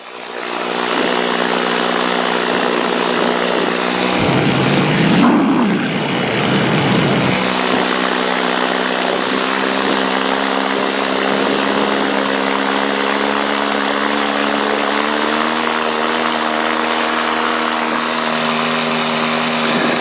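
Paramotor engine running in flight on a cold day, a loud, steady propeller drone with a harmonic buzz close by, a brief gusty rumble partway through, then continuing evenly with a slight shift in pitch.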